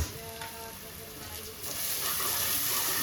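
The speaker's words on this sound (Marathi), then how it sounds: "कांदा आणि टमॅटो आणि अद्रक लसूणची पेस्ट ना चांगली परतली गेली पाहिजे" Onion, tomato and ginger-garlic paste sizzle steadily in a hot pan for a mutton curry, with a continuous bright frying hiss that grows slightly louder partway through and occasional stirring.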